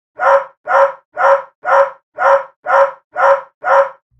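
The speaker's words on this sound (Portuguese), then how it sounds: "Latido de cachorro vira-lata." A mixed-breed dog gives eight evenly spaced barks in a steady, rapid rhythm, each one loud and close with clean silence between them.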